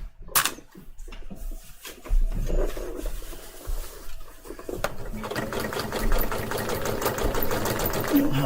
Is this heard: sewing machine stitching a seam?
yes